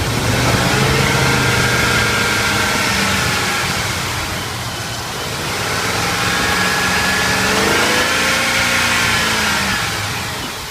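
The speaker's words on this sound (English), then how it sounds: "have somebody rev up the engine" A used car's engine revs up with the hood open in two long, swelling rises and falls, droning loudly and steadily close by between the revs.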